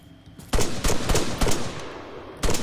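Gunfire in the ARMA 3 military shooter, several loud, sharp shots and short bursts fired close by in an irregular rhythm after a brief quiet start.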